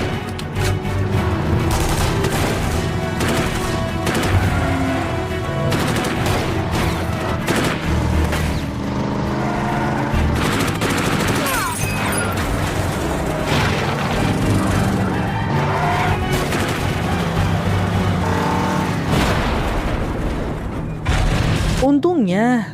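A car chase with gunfire from The Last Ship: dense bursts of shots and booms over roaring engines and skids, loud and continuous, with a voice talking over the action throughout.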